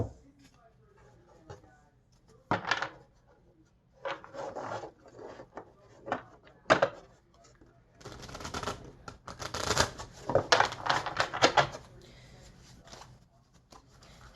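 A large tarot deck is shuffled by hand, with soft riffles and card rubbing coming in uneven bursts, close and fairly quiet, growing busier toward the end; a voice talks faintly at points.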